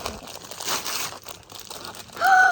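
Small plastic packets crinkle and rustle as they are torn open up close. A brief bright squeak comes right at the end.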